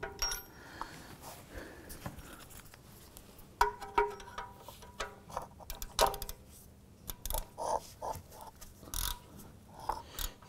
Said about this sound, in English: Then I'm going to go ahead and put our socket tool back on here.